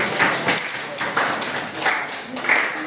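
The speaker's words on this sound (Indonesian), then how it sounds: "Boleh tepuk tangan untuk kelompok." A classroom group claps for a presenting group. The clapping is sparse and uneven, with a few separate bursts, and voices can be heard faintly in between.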